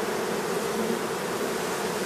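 Honey bees crowd the entrance of an overflowing hive, a steady, dense, unbroken buzzing close by with no voices.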